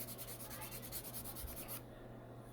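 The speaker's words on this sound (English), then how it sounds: "I'm just sitting here sanding" Steady rubbing of sanding on a resin wine rack, continuous and close, with a faint rhythmic scrape that stops near the end while background hum continues.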